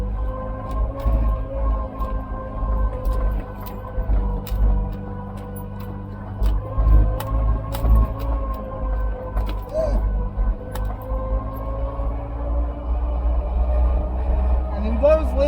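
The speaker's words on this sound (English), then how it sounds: "You can hear the first gear." A Fiat 500 engine pulling in first gear, a low steady drone with a rising whine running throughout, while someone talks over it for most of the stretch.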